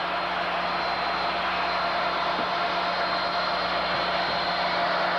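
A template stair router machine runs at a constant pitch, a loud, steady motor whine with a harsh airy roar, close by and uninterrupted for about five seconds with no speech.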